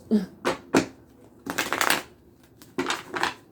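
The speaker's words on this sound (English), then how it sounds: "Well, let me shuffle real quick." Tarot cards shuffled by hand in a few quick, close bursts of riffling and slapping, separated by short pauses, with no talking.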